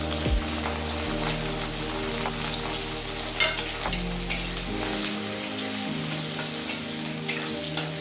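Chopped onion and ginger, added after garlic, fry in a pan for pasta chowmein with a soft, continuous sizzle and occasional crackles, while a low steady hum of the cooking setting runs underneath.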